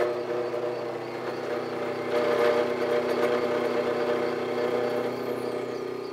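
A milling machine cuts with a 1-inch end mill held in a large Weldon shank holder, producing a steady, moderately quiet machining drone with a faint tonal whine that swells slightly midway.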